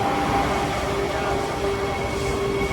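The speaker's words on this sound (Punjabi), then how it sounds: "ਬੰਦੇ ਬਾਤ ਟ੍ਰੇਨ ਜਾ ਰਹੀ ਹੈ" A Vande Bharat Express train rushes past with a steady, loud roar and rumble of wheels on rails, a faint high whine running through it.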